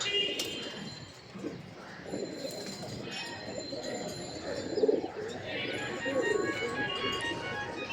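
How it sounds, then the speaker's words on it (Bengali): Orange Bahma pigeons coo softly in low, repeated murmurs, with occasional chirps and faint rustling around them. "চুইঠাল অরেঞ্জ বাহমা কবুতর আমার খুব পছন্দের কবুতর এগুলো"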